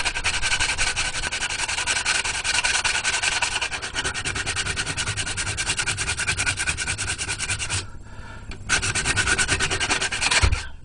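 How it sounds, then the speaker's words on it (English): A helmet shell being sanded by hand with rough 40 grit sandpaper: loud, steady, rasping strokes, close and continuous, with one brief pause near the end before the scraping resumes. "So I'm going to use some really rough 40 grit just to get some shape to it."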